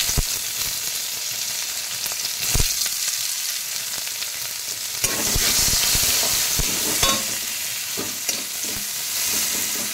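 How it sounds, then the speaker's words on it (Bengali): Sliced onions fry in hot oil with bay leaf and whole dried chillies, a loud, steady sizzle close by, broken by occasional scrapes and clatters of a spatula stirring the pan. "পেঁয়াজগুলো একটু ভাজে ভাজে নেব, হালকা লাল হবে, পেঁয়াজগুলো একটু ভেজে নেব"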